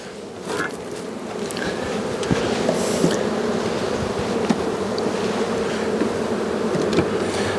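Honey bees swarming in a beeyard after being shaken off a hive frame, a dense continuous buzzing drone close by, with occasional knocks of hive equipment and no talk.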